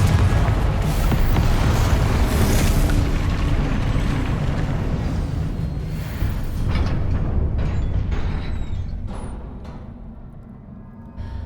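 Confringo spell blasts in Hogwarts Legacy combat: heavy booming explosions rumble almost continuously, loud and dense, easing off slightly toward the end.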